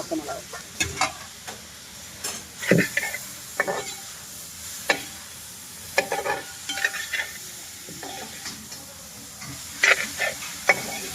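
Onions sautéing in a pan for Kerala-style beef liver in coconut milk, with soft sizzling and repeated scraping stirs of a spoon at close range, brief clinks spaced through the stretch, and no talking.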